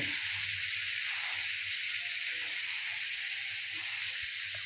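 Potatoes with nate bene greens fry in a pan, giving a steady, close broadband sizzle and hiss that holds evenly throughout with no talking.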